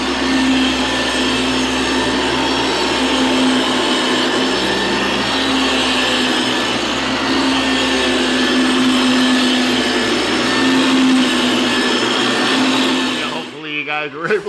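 Floor grinder sands a timber floor with a loud, continuous high whine and a steady roar, close up, cutting off abruptly near the end.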